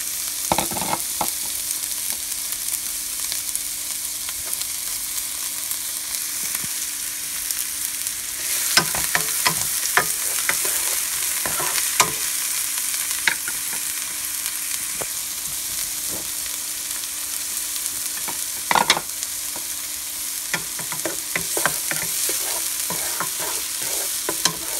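Onions sizzle steadily in a hot pan for soup with ground meat, and repeated scrapes and clinks of stirring break through the constant frying hiss.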